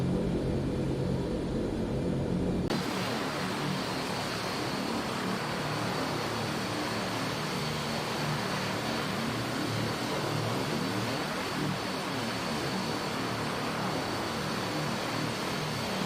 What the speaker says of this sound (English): we're flying the Dornier 328